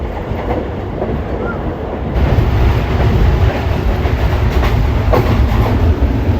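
Aboard the Tezgam 8 Down passenger train, loud continuous rumble of wheels on track with clacking joints, the noise swelling as the train picks up after a couple of seconds.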